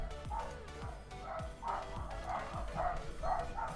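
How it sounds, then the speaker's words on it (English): Dogs bark repeatedly in a steady run of yips and woofs, moderately distant and continuous, layered over a low background hum. "Oh, and the dogs are gonna bark."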